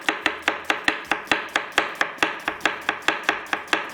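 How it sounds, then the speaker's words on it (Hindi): Onions chopped finely with a knife on a board, about twenty crisp evenly spaced strikes in a fast steady rhythm, close and clear with nothing else over them. "बस बारीक बारीक प्याज कटिंग कर लेंगे"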